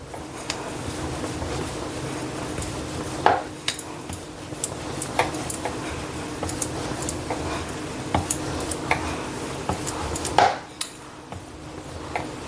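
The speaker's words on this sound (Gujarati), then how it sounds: "તો હવે આપણે વણી લઈશું" Bhakhri dough for a large pizza base being rolled out with a rolling pin, a steady soft rumbling scrape broken by a few sharp clicks and taps of the pin against the board, close by with no talking.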